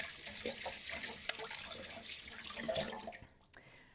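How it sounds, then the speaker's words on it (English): Water pours steadily from a kitchen tap as hands are washed after handling potato gnocchi dough, a close continuous rush with small splashes before it cuts off near the end. "Okay, so now I'm just going to wash off my hands."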